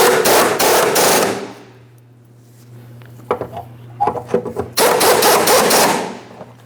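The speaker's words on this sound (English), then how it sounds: "let's go ahead and snug and torque all 4 of these mounting bolts" Rapid impact-wrench hammering on the fuel pump module mounting bolts of a 2008-2016 Chrysler Town & Country 3.8L, loud close bursts at the start and end with a low hum and scattered metallic clicks in between.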